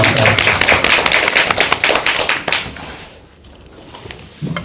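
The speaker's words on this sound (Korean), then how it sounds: "박수 감사합니다" Audience at a rural care services briefing session in Gumi applauds, a dense burst of hand claps that thins out and fades, with a few scattered claps at the end.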